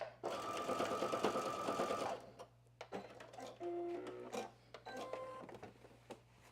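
A home sewing machine stitching a spring top from a McCall's pattern runs in a fast, whirring burst, then stops and starts in shorter runs amid faint handling noise.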